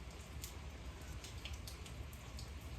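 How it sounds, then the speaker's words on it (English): Rain falling outdoors on a muggy, warm Saturday in South Carolina, a faint, soft, steady patter of drops with a few sharper ticks scattered through it, heard alone and without voices. "Started raining, so it's muggy as anything."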